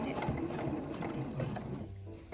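A home sewing machine stitches a zipper into a canvas tote bag, giving a quiet, continuous whirring run close by that eases off just before the end.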